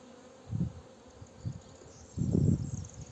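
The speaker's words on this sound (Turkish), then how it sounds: "Bakın bu arı çok sakin bir arı." A calm honeybee hums close by in short soft bursts, with a longer, louder stretch of buzzing near the end over a faint steady background.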